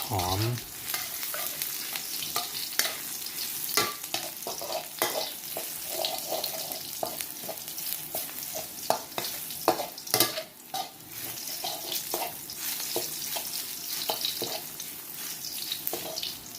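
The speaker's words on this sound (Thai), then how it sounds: "ไม่ต้องรอให้กระทะร้อนมากก็ใส่ กระเทียมลงไป" Steady sizzling of garlic stir-frying in a pan that is not yet very hot, with occasional scraping and stirring sounds throughout, close and continuous.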